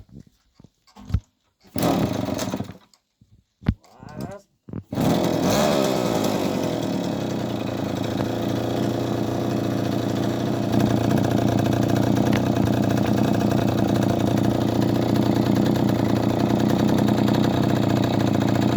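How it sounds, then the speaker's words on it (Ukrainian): A Karpaty moped engine takes several kicks and brief sputters before catching, then settles into a loud, steady two-stroke running buzz close by for the rest of the stretch, with no talking. "А зараз вам покажемо, як він заводиться."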